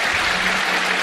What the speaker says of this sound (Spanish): Os pido un aplauso para él, Jesús Callejo.